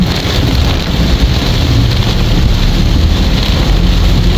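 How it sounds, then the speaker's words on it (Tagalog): Heavy rain pounds a hatchback while it drives along a road, a loud, dense, unbroken roar of rain and road noise filling the whole stretch with no speech. "Napakalakas po ng ulan."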